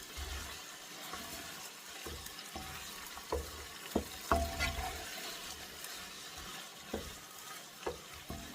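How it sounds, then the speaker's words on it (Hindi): Chicken for Lucknowi dum biryani fries in a pot with a soft continuous sizzle, punctuated by scattered clinks and scrapes of a spoon against the metal, close but fairly quiet, with no talking. "अब हम इसको छोड़ देंगे ऐसे भूनने के लिए, ताकि जितना भी चिकन अभी अपना पानी छोड़ेगा"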